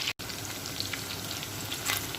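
Chicken biryani frying in oil in a pan, a steady dense sizzle with light crackling pops throughout, close and continuous with one brief dropout near the start.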